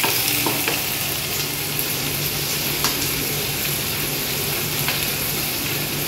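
Green chillies fry in a hot pan while cooking mushroom pulao, giving a steady, close sizzle with light stirring scrapes throughout and no voices.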